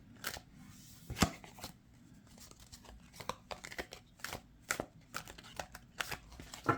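An oracle deck's cards being riffle shuffled by hand, giving a run of quick, crisp riffling bursts and snaps at close range with no talk.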